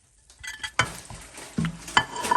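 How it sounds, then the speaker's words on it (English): Ground chicken seasoned with taco seasoning and chili powder fries in a pan, with soft sizzling broken by several sharp stirring scrapes and clanks of a utensil against the pan. "now we're going to be adding in our chicken"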